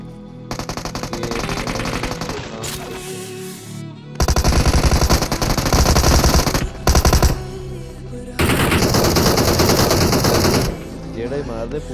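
Shotgun fire in PUBG Mobile, loud blasts and rapid bursts repeated in several clusters with short gaps between, close and dominant across the clip.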